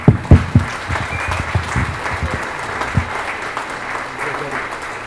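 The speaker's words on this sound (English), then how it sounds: "please join me at this time with a warm round of applause to show our gratitude" Warm round of applause from an audience at a sculpture unveiling in a convention center in Fairfield, Iowa, with sharp, dense clapping at first that thins to a steadier, softer patter.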